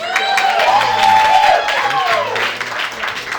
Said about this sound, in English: Give it a round of applause to her.